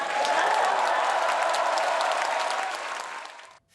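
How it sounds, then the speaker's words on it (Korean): Studio audience applause on a Korean TV news talk show, a dense steady wash of many hands clapping loudly, sustained for about three seconds before trailing off abruptly at the end. "평양에서도 다 들리게 큰 박수를 부탁드립니다"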